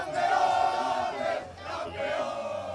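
A huge crowd roars and chants in Madrid celebrating Spain's World Cup champions, a dense sustained mass of voices with swelling cheers and horn-like tones, distant and broad.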